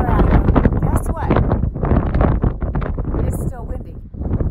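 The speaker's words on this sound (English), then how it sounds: "It's still windy." Strong wind buffets the microphone on a mountain trail in Colorado, a loud continuous low rumble with gusty swells while someone talks over it.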